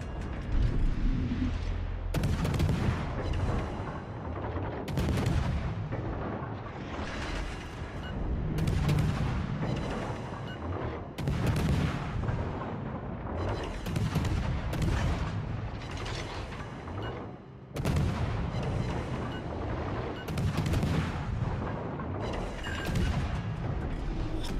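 In the World of Warships Legends game, the legendary-tier destroyer HMS Daring fires its guns in repeated heavy booming salvos with mechanical clanks and rumble between them, loud and dense throughout.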